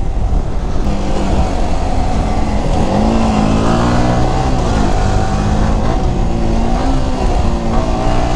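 Motorbikes ridden on the road, on the way to fill up with petrol, with a steady loud engine drone whose pitch rises and falls as the riders rev and accelerate, continuous throughout with no talk.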